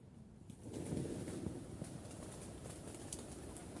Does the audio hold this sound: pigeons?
yes